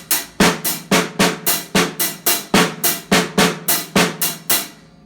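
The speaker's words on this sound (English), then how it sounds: "the paradiddle in between the hi-hat and the snare drum kind of sounds like this" A paradiddle rudiment split between hi-hat and snare drum rattles along in an even, quick stream of crisp strokes, close and loud, with no talking over it.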